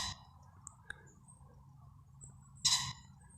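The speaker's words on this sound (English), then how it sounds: "That's a cock pheasant that's hanging around somewhere outside." A cock pheasant calls once from somewhere outside a tent at a wild camp on a calm morning, a short harsh burst standing out over quiet background hiss and faint chirping.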